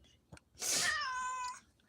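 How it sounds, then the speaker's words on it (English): A female house cat gives a single drawn-out meow of about one second, close and clear, in a quiet kitchen. "Yeah, she just meowed."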